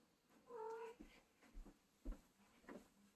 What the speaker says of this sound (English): he gave me a little meow, weird meow.